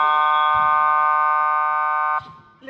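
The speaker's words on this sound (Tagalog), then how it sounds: "Wait for the buzzer." Basketball game-end buzzer blares as one loud, steady, harmonic tone lasting about two seconds, then cuts off abruptly, followed by faint crowd noise.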